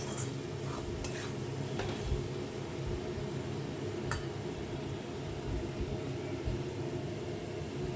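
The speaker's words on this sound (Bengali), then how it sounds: "আমি নুন হলুদ আর গুঁড়ো মশলাটা দিয়ে দিচ্ছি, দিয়ে এটাকে আমি কষবো ভালো করে।" Fried katla fish sizzles steadily in a pan as salt, turmeric and ground spices are stirred through, with scraping stirring strokes over a constant frying hiss and no talking.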